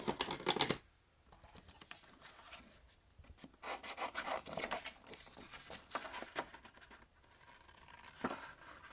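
Patterned paper being cut out for a handmade card, giving close, soft rasping snips and rubbing strokes in irregular bursts, with short pauses between them and no talking.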